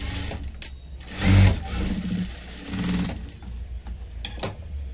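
A sewing machine stitches a seam on a four-tuck blouse in a close, steady whirring run that swells and eases with speed, with light mechanical ticking between bursts.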